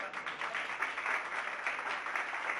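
Church congregation applauding during a sermon, a steady wash of clapping hands filling the room at moderate level, continuous and even throughout without a break.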